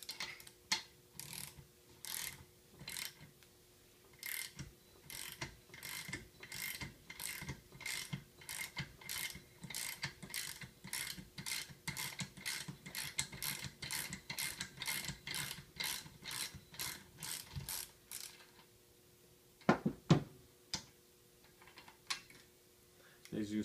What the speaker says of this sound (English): Now I'm going to tighten the nut up here, the 11/16 to bring the sleeve up.